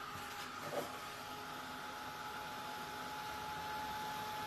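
A steady, even mechanical whir with a faint hum, holding constant throughout like a heat gun blowing hot air, fairly quiet and close.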